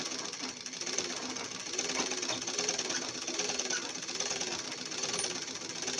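An electric sewing machine stitches a chudidar pant, giving a steady, close mechanical hum with a soft, rapid, even stitching pulse that runs without a break for several seconds, with no voices.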